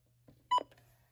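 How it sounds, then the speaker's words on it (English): A WR-100 weather alert radio gives a single short electronic beep, quiet and brief, in an otherwise hushed room with a low steady hum beneath. "This one I had to shut off because it kept beeping."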